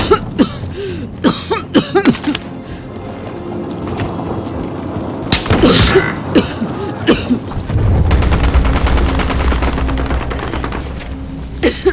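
Hostile gunfire in Call of Duty, with bursts of sharp shots in the opening seconds, a heavier cluster of cracks and booms near the middle, then a low rumbling roar toward the end.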